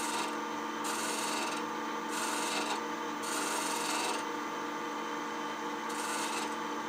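Carving knife scraping and cutting away wood around a turned bead, close rhythmic rasping strokes repeating about once a second, with no voices.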